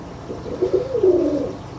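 A highflyer pigeon coos in soft, low, rolling phrases, close by, with no other sounds around it.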